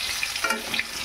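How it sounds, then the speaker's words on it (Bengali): Tomato fritters frying in hot oil give a brief, steady, close sizzle with light crackling bursts, and no voices are present. "এইভাবে লাল লাল করে বড়াগুলোকে ভেজে নিতে হবে"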